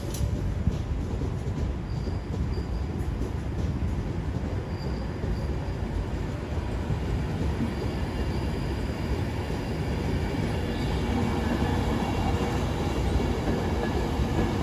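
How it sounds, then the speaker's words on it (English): An Avanti West Coast train to Birmingham New Street pulls out of London Euston with a steady low rumble of wheels and traction, faint high squeals and clatter rising toward the end. "off goes the 1153 Avanti West Coast service to Birmingham New Street."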